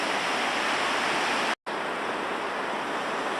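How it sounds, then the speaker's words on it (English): Sea waves rolling in under a blue sky just north of a pier on a seafront; a steady, dense wash of surf noise fills the whole stretch, broken only by a momentary dropout. "the waves coming in just to the north of the pier"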